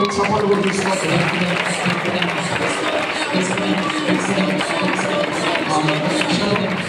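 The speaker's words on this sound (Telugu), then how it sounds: "చప్పట్లు" Congregation at a fasting prayer service at Immanuel Ministries in Hyderabad breaks into steady, dense applause that fills the room, with voices and crowd noise mixed underneath throughout.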